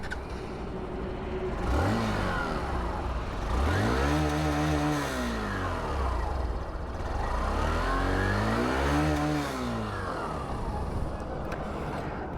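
A Hero Glamour Xtec 125cc motorcycle engine and exhaust revs up twice, each rise climbing and falling back to a steady idle, close and loud.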